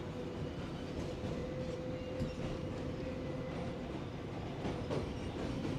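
The New York City 7 subway train runs across Queens with a steady loud rumble and rattling wheels, a faint whine and occasional clacks from the track, and no talking.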